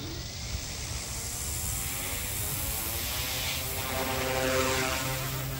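An OMPHobby M2 EVO RC helicopter flies with its motors spinning, giving a steady, fairly faint rotor whir that builds slightly toward the end.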